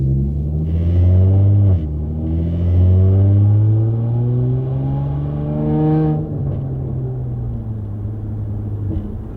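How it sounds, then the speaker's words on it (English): Straight-piped exhaust on a 2013 Audi S4 with a supercharged V6 revs loudly and up close, with rising and falling engine pitch through several throttle blips and a steady idle rumble between them. "All the noises you hear are totally from the straight piped exhaust."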